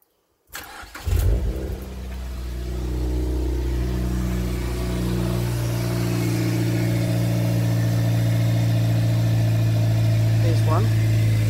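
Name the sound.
Mazda MX5 Miata NC car engine idling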